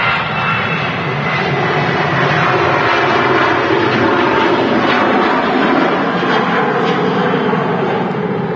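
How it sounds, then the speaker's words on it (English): A KLM Boeing 737 jet at Manchester Airport gives a loud, sustained engine roar that holds steady and close, with no talk heard. "Heading back to Amsterdam Schiphol Airport, the KLM 737"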